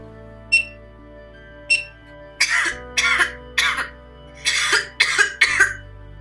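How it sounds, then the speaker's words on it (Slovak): A girl coughs repeatedly in an animated reading-primer module, two small throat sounds followed by a run of six or so close, distinct coughs in quick succession, with no talking. "V tomto momente počujete kašľať dievčinu."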